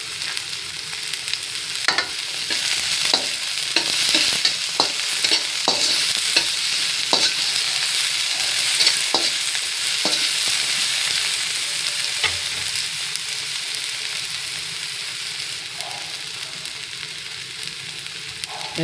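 Garlic sizzles and fries in a pan while being stirred for a Filipino sinigang sour soup with maya maya fish, a steady loud crackle broken by repeated sharp scraping strokes of the utensil, with no talking.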